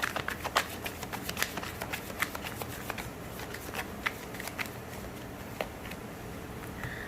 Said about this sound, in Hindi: योर एनर्जी में मैं कुछ और कार्ड्स भी आपके लिए निकालना चाहूँगी